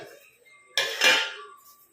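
Ingredients drop into a steel mixer grinder jar with a single short metallic clatter and scrape, close and fairly loud against a quiet kitchen background.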